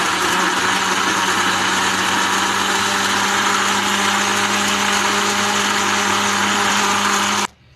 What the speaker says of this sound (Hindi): हमने एक ग्राइंडर में प्याज और मिर्चें डाल दी और हम इसे ग्राइंड कर लेंगे